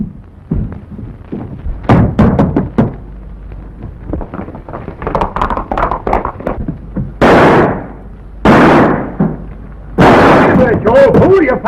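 Gunfire in a 1922 western film: several loud, sharp reports scattered among shouted voices and scuffling, then three big booming blasts near the end, harsh and close.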